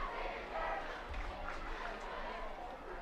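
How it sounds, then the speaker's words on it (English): Students cheering for the seniors in the stands at a high school football game, a broad distant crowd roar with shouting voices that stays steady for a few seconds. "the students doing their thank you seniors cheer"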